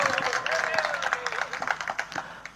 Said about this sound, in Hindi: अभी तालियां बजा रहे हो